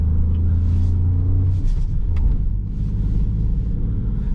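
Interior of a 2020 Peugeot 208 being driven at night: a steady, loud low engine and road rumble fills the cabin throughout, with slight swells as the car accelerates and no voices.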